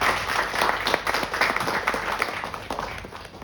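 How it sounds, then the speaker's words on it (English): Applause for blood bank staff at a public gathering, a room full of hands clapping in a lively, uneven patter that peaks early and gradually thins toward the end. "Let's give them an applause."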